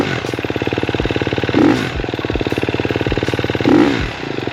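A KTM XC-F dirt bike engine runs at a steady, throbbing pace during log-crossing drills, broken by two sharp, loud throttle blips spaced about two seconds apart.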